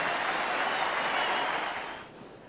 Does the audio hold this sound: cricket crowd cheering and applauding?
yes